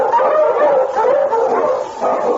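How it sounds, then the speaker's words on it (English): King, an Eskimo husky lead dog pulling a sled through storm and snow in the Yukon, barks and yelps continuously in a loud, excited run of overlapping cries, heard through a narrow old radio-drama recording. "The Wonder Dog King, swiftest and strongest of Eskimo lead dogs"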